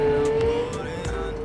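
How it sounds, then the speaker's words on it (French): In Cyberpunk 2077, a game car's engine drones steadily up close, with a sustained tonal hum and a few brief tire or road noises on top. "Elle est inconduisible cette bagnole."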